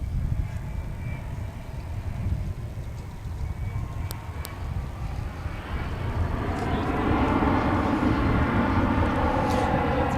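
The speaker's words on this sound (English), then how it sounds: "There you see American Airlines Flight 2554. That's an Airbus A321." An American Airlines Airbus A321 jet at Dallas Fort Worth International Airport, a steady broadband engine roar that swells louder and rises toward the end as the plane passes close by, with no talk over it.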